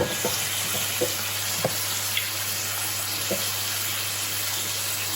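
Sichuan lamb and onions stir-frying in a wok give a steady, bright sizzle, with occasional soft scrapes and taps of the spatula over a constant low hum.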